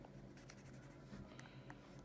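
A stylus scratches and taps across a Nintendo 3DS XL touchscreen while drawing a smiley face, giving faint, close, quiet strokes over a low steady hum.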